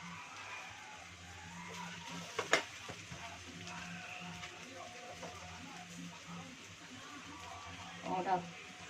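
Sliced onions fry in a pan for a fried onion curry, a soft steady sizzle with occasional sharp crackles and a brief stirring clatter, fairly quiet throughout.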